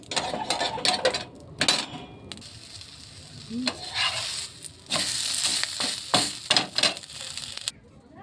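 A semolina chitoi pitha fries in a pan after being flipped, giving a bright crackling sizzle broken by scraping and clattering touches, with quieter gaps between louder bursts.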